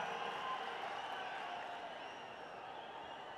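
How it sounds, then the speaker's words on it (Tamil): A large crowd at a Tamil political rally in Madurai applauds a speech, a dense, far-off wash of clapping and cheering that fades slightly toward the end. "அண்ணனுக்கு இந்த கைத்தட்டெல்லாம் பத்தாது."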